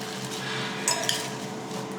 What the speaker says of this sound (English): I've just cut up a lemon and I'm just gonna squeeze that in and then mix it all together